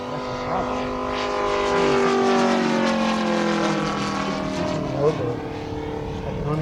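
A Moki 250 radial engine on a CARF AT-6 Harvard model airplane drones steadily through a noon demo flight at Joe Nall 2019, its tone swelling as the plane passes and then easing off, with people talking faintly underneath.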